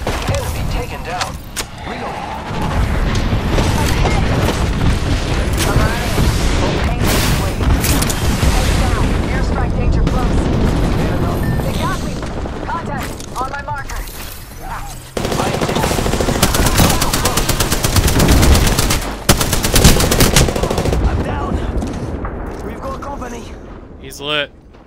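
Rapid machine-gun fire with booming shots rattles through a session of the Apex Legends video game on Xbox One. The loud, dense bursts run almost the whole time while a player talks over them.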